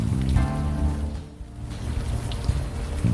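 Steady rain pours down in the Unavowed game scene, a dense continuous hiss with a few louder drips and splashes, heard alone without talk.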